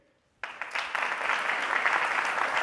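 An audience breaks into applause after a politician's speech, bursting in suddenly after a quiet moment and continuing as a dense, steady patter of many hands clapping.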